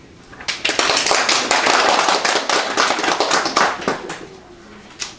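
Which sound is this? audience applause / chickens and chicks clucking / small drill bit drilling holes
audience applause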